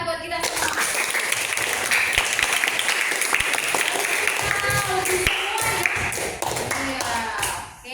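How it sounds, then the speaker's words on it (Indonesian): Classroom children clapping their hands together for one another, a dense burst of many small hands applauding at close range for several seconds, fading out near the end. "Tepuk tangan dong kita buat kita semua."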